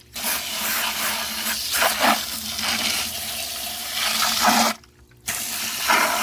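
A garden hose sprays water over a pool pump filter cartridge, a steady broadband hiss of jetting, splattering water held close and loud for most of the stretch, cutting out briefly near the end before resuming.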